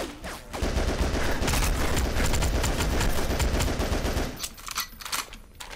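Rapid, loud shotgun blasts in the GoldenEye: Source video game, a continuous roar of firing for about four seconds that then breaks into a few separate shots, with no talking.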